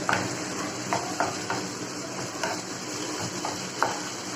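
Green chilli sauce cooks in a pan and is stirred now and then: a continuous close sizzle and bubbling, with light scrapes and taps from the spoon against the pan, and no talking.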